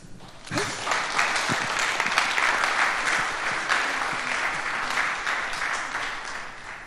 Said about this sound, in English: So I would like you to give a big applause to those guys in Bayreuth